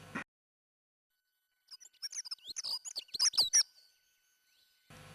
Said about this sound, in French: L'oiseau est très énervé et rouspète bien fortement